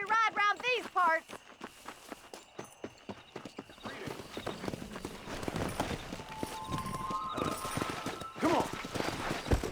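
Horse hooves clip-clopping at speed in the Western video game Red Dead Redemption, a steady drumming of gallop strides under a short spoken line and a whinny, with other game sounds around it.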